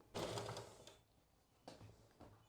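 Sewing machine stitching the side seams of a pair of trousers, two quiet bursts of rapid mechanical whirring separated by a pause, the second burst shorter, with no talking.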